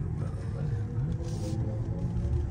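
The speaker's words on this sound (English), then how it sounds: "that sound, that throaty kind of exhaust sound" A low, throaty synthesized exhaust drone from a BMW electric car in sport mode rumbles steadily, deep and resonant, heard inside the moving car.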